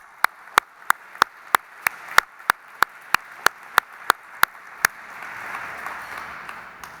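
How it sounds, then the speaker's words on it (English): About fifteen single sharp claps in an even slow rhythm at an Auschwitz exhibition opening evening, loud and close, followed by a softer scattered patter of clapping as the regular beat stops. "Let's give Ambassador Sonland another round of applause."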